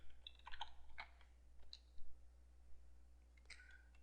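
Computer keyboard typing, a handful of light, close key clicks in short irregular bursts with pauses between, over a steady low electrical hum.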